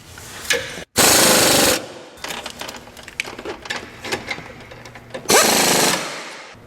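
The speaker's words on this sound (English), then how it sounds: "Much faster to use air tools for this." Loud bursts of a pneumatic impact tool rattle in short runs during a 2001 GMC Sonoma 2.2L engine replacement, separated by clanking and tool handling noises nearby.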